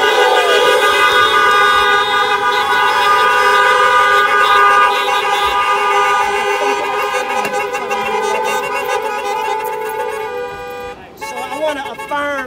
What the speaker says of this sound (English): So honk out for my parents.